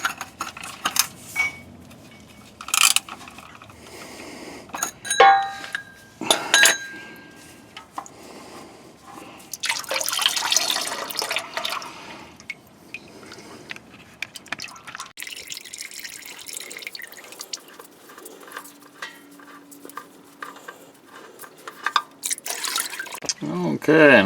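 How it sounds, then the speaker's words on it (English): Oil drips and trickles off a Ford 6.8L or 7.3L V8 as the oil filter beside the oil pan is removed, irregular close liquid patter in short bursts with someone talking over much of it. "Now we'll remove the oil filter. It is right alongside the oil pan here."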